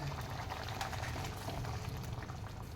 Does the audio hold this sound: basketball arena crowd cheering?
no